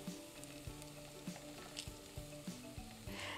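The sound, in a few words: tomato paste sizzling with onions and garlic in pan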